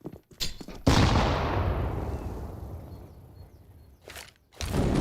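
A grenade goes off in the game CSGO, a heavy booming blast that rumbles and slowly fades over a few seconds, followed by sharper gunshot-like cracks.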